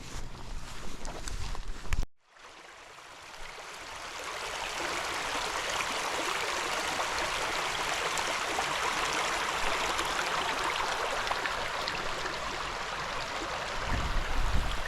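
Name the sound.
small stream flowing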